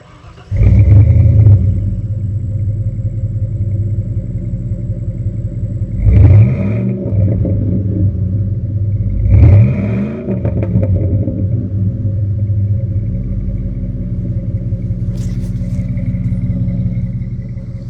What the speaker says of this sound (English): let you hear the old dual exhaust real quick